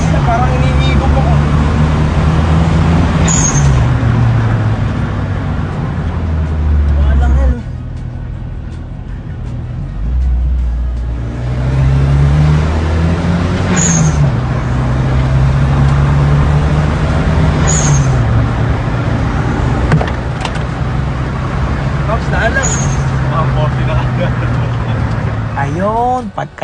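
A Mitsubishi Lancer with a 4G93 turbo engine races hard. The loud engine note climbs and drops through repeated revs and shifts, with a brief lull midway, and voices run over the continuous roar.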